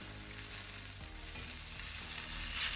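Water goes into a hot pan of sizzling eggplant slices, producing a dense, continuous hiss that swells and brightens toward the end, with no speech.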